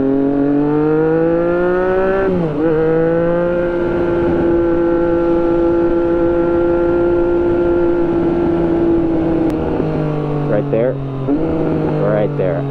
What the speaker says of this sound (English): I hear on downshifts especially, I hear that kind of like throaty gurgle that I think people really like